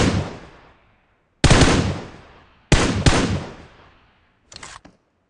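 Gunfire in PUBG while knocking out an enemy: three loud close bursts of rapid shots with echoing decay, followed by a short fainter burst, no voices.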